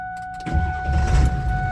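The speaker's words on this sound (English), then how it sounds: "Yeah, truck fires right up." A 7.3 Powerstroke diesel truck engine with an upgraded starter, cranking very briefly and then catching into a loud, rumbling idle close by.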